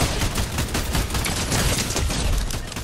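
Rapid SMG gunfire in Fortnite, a close, loud, steady burst of quick shots repeating evenly for about three seconds with no talking.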